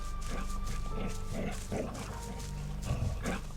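A wolf in the Risen video game gives several rough barks over a dense, steady game soundscape, with loud ambient rumble throughout.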